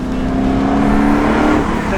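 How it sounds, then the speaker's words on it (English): An American muscle car with a supercharged engine growls loudly, a steady whining tone riding over the deep exhaust note as it pulls, with someone talking over it. "the growl, the snarl, the exhaust note, that supercharger whine, the induction noise"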